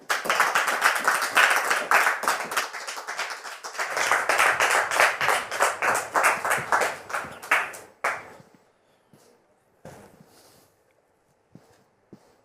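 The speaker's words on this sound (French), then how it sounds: "Merci de le recevoir sous vos applaudissements." An audience claps to welcome a guest, a loud burst of many hands lasting about eight seconds before it cuts off sharply, leaving near-silence with a few faint stray sounds.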